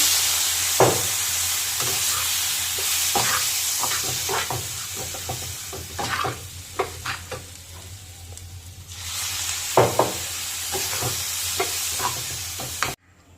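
Semolina and potato mixture being stirred in a pan after a little water is added, with repeated scraping strokes over a steady sizzle, close and moderately loud, no talking.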